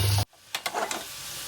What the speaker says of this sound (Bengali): এইবারে আলুগুলো ভেজে নিতে হবে। নুন হলুদ মাখানো আলুগুলো। লাল করে ভাজতে হবে।